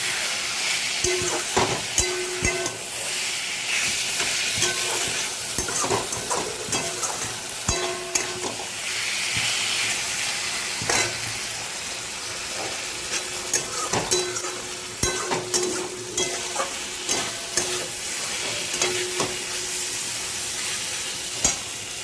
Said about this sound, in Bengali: আমি এই জন্য এর মধ্যে একটু সামান্য জল দেবো, দিয়ে এটাকে ভালো করে ফুটতে দেবো।